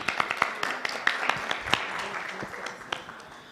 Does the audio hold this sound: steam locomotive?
no